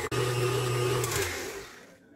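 An electric mixer whirring through strawberry crunch cheesecake filling, a steady loud motor hum that winds down and stops after about two seconds.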